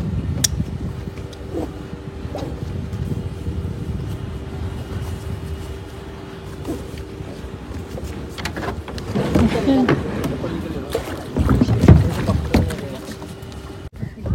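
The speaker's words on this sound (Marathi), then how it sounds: "तर फायनली आम्ही करतोय कायाकिंग." Kayak paddling on water at a boat club in Karjat, with soft, uneven splashes and water movement close by, growing a little louder toward the end while people talk throughout.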